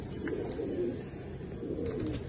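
Pigeon cooing steadily among a loft of fancy golden pigeons, low soft coos repeating close by over a continuous murmur of other birds, with no talking.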